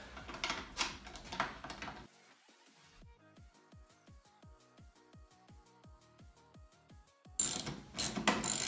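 A ratchet tightens bolts on the bracket of a 2017 Ski-Doo LinQ fuel caddy, making a steady run of crisp, evenly spaced pawl clicks in repeated strokes, with louder handling noise before and after.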